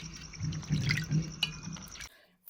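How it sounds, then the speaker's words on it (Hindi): Soaked, swollen lentils rinsed once more in water, giving a steady splashing and trickling wash with small drips, close by, that stops abruptly near the end. "धुल लेते हैं एक बार और पानी से।"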